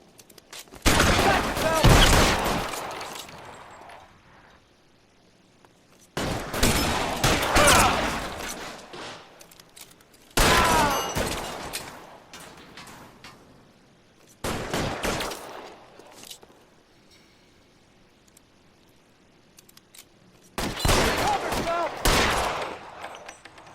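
Bursts of gunfire in the crime game L.A. Noire, arriving in four loud clusters of rapid shots separated by quieter gaps, each volley sharp and crackling with a decaying tail.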